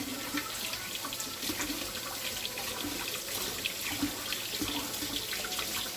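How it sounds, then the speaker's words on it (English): Steady running tap water pours into a kitchen sink while forks are rinsed under it, a constant close splashing rush without speech. "So I rinse out my forks every once in a while."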